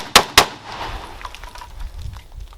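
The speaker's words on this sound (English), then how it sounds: "So I shoot my rifle dry." AK rifle fired until empty: two sharp, loud close shots in quick succession, followed by a fading echo and light handling noise.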